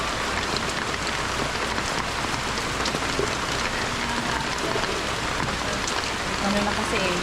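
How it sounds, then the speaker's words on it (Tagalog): Heavy storm rain pours steadily on a surface for the whole stretch, loud and close, while a street vendor sells outdoors under a head covering; a voice seems to speak faintly beneath the downpour. "Ano na kasi yung pag-ulan."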